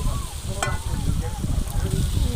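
Potatoes sizzle and crackle in hot oil in a pan while cooking for a homemade egg curry, a continuous close frying hiss with faint stirring and a soft voice in the background.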